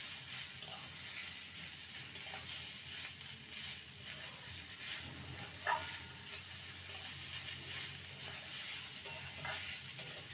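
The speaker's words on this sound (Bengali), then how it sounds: "মূলো দিয়ে ভালো করে নেড়ে নেব।" Chopped radish sizzles softly in spices in a pan while being stirred, with a quiet continuous frying hiss and scattered scraping strokes and small clicks, close but faint.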